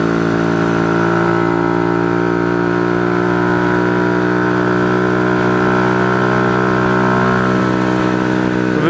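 Motorcycle engine drones steadily while riding on an open road. The exhaust was damaged in a slide crash against a harrow and now rasps a little. The rough, even note holds loud and close throughout, with no voices.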